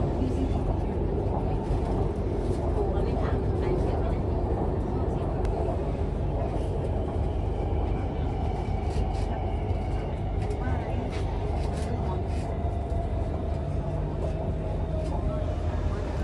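Elevated BTS Skytrain in Bangkok running between stations over the Ratchayothin intersection, a steady broadband rumble and hum of the train alone throughout, with faint higher whines and rattles.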